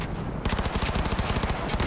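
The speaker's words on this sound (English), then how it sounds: "Under heavy fire" Heavy gunfire in the video game Cyberpunk 2077, a dense rapid fusillade of automatic shots firing in a fast continuous rhythm, loud and close after a brief quieter lead-in.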